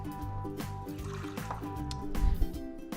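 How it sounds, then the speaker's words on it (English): Water is poured into a bowl while making snack bars, a close, short liquid splash and trickle with small drips, quiet and alone. "I'll throw some water in here in the bowl"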